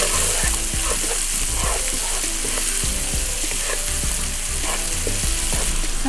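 Green onion sizzling in a pan alongside sun-dried tomatoes for Tuscan salmon, a continuous loud frying crackle with intermittent stirring clicks and scrapes, no talk.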